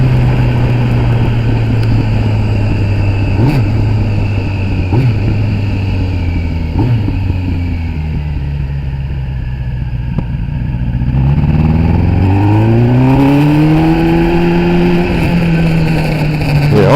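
A Kawasaki ZX10R sportbike engine idling loudly up close with a slightly uneven burble, then revving up and down in smooth rising and falling sweeps.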